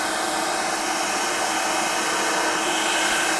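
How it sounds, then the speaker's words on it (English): A meat grinder pushes a mix of quail and rabbit meat with fat through a fine plate, giving a loud, steady whirring drone with no pauses and no talking. "And I'm grinding it through a fine plate."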